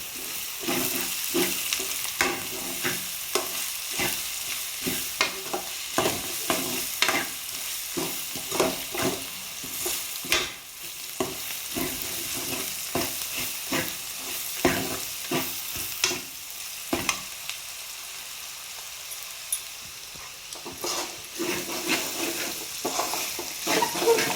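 Spices, including ground black pepper, fry in a pan for chicken curry, giving a continuous sizzle. Rhythmic scraping and stirring strokes repeat throughout, up close, with no talking.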